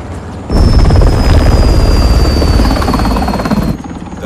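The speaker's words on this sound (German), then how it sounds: "verbündetes Flugzeug nähert sich von Süden auf 180" An allied aircraft approaches in Call of Duty: Modern Warfare, a loud, steady rotor-like roar with a thin high whine that swells in abruptly, holds for about three seconds, then cuts out.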